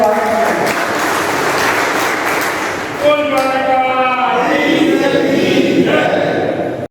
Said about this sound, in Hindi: जोरदार तालियों से अपना स्वागत करें